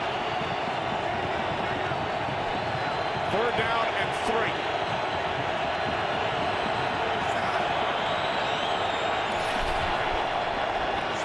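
Stadium crowd at an NFL game between the 49ers and the Vikings, a steady broad roar filling the whole stretch with a slight swell partway through, under continuous play-by-play commentary.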